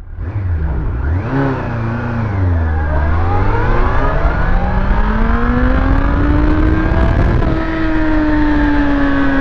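A motorcycle with an engine derived from a Yamaha R1 pulls hard in first gear, revving up from low with a rising, loud engine howl that climbs steadily and holds high near the end, heard alone and close.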